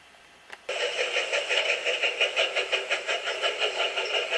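After a brief click, a tractor engine starts up and chugs in a steady, rhythmic pulse, close and moderately loud.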